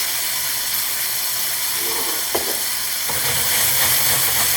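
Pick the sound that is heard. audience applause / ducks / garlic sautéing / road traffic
garlic sautéing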